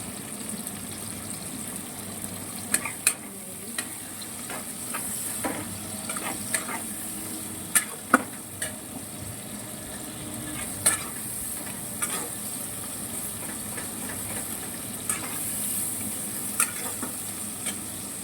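Chopped onions frying in a pan for chicken biryani, a steady close sizzle running throughout with scattered sharp crackles and occasional stirring scrapes.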